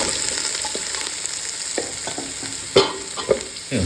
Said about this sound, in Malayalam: ഇനി ഇതിലേക്ക് ഞാൻ ഒരു നാല് സവോള ചോപ്പ് ചെയ്ത് അരിഞ്ഞത്